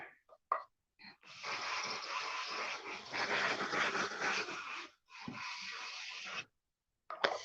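A pet dog lets out a long, rough, close growl with brief whimpering snorts before and after, breaking off into short pauses.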